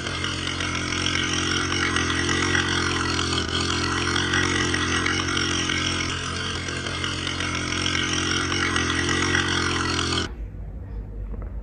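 An ATV engine runs loud and steady on a mountain tour at Campbelltown Mountain Adventure in Jamaica, a constant droning roar that cuts off abruptly near the end, leaving quieter background noise.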